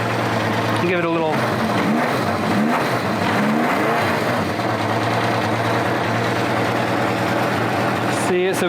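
A motorcycle engine idles steadily near 1100 RPM during a carburetor sync, a loud, close, continuous rumble with slight pitch wobbles as the throttle is touched, and someone talks over it.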